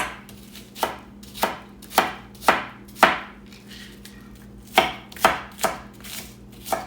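A knife chopping an onion into small pieces on a cutting board, about ten sharp, close chops in an uneven rhythm with a short pause midway, no talking.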